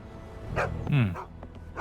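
A dog in the video game Sherlock Holmes The Awakened gives a couple of short, close barks with a whiny yip rising in the middle, all within under two seconds against a quiet game background.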